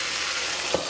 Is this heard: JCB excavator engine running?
no